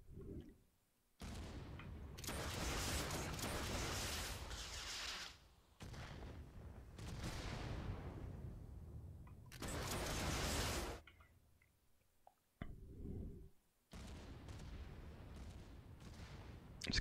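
Homing rockets launch and burst one after another in an Unreal Engine 5 game scene, each a loud, broad roaring blast lasting a second or more, separated by short quiet gaps.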